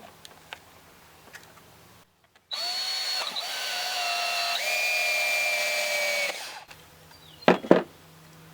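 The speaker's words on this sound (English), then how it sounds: "We're going to start with the hole saw, and then work our way up with the unibit." A power drill turns a hole saw into a Yamaha TTR90 air box, a loud whining burst of about four seconds that shifts pitch partway through, followed by a few clunks of handling.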